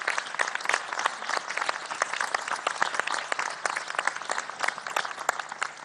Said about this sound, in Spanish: un aplauso para Horacio